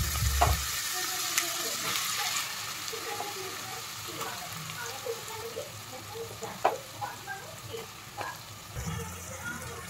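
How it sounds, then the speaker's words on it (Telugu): Dry fish dropped into hot oil and frying, a steady close sizzle and crackle with scattered pops and occasional stirring clinks, carrying on throughout. "ఆయిల్ మరిగిన తర్వాత మనం ఎండి చేప వేసుకుందాం."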